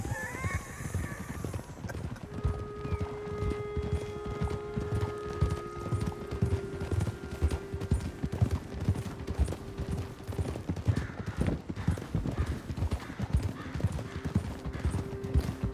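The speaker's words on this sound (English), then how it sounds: "I hope you guys are skipping through all this horse riding." Rapid, steady clip-clop of horse hooves at a trot in the video game Red Dead Redemption 2, with occasional whinnies and a faint musical drone underneath.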